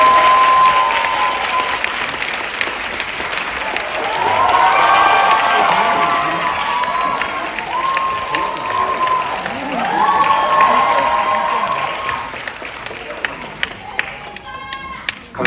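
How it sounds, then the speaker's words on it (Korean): A large audience at a film company's 20th anniversary event applauding loudly and continuously as a director, actor and producer take the stage, with cheers and shouts rising before the clapping thins out near the end. "큰 박수로 환영 부탁드립니다."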